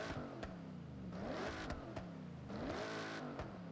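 A supercharged Ford GT in Forza Horizon revs repeatedly, its engine pitch rising and falling in quick sweeps with sharp shift cracks between them, steady and fairly loud with no talking.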